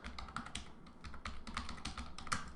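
Typing on a computer keyboard, a steady, close run of quick key clicks that continues without pause and with no voices.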